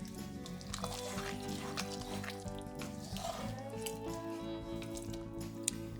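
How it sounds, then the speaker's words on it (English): Shrimp stirred into a pot of simmering sausage and shrimp jambalaya rice, giving a steady wet squishing and liquid churning close up, with a constant low bubbling underneath throughout. "stir in the shrimp."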